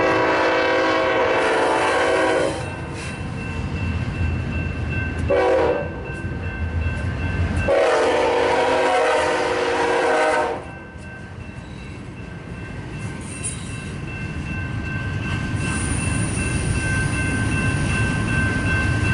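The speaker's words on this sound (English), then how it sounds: "the crew of the eastbound train on track 1 are still required by law to sound their horn as a warning for the crossing" A freight train horn sounds at a grade crossing in long, loud blasts separated by short gaps, echoing off the ends of a stacked container train on the adjacent track, with the rumble of rolling cars underneath throughout.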